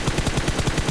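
Rapid automatic gunfire from PUBG Mobile on an iPad rattles off in a fast, even burst of about nine shots, loud and alone without any talking.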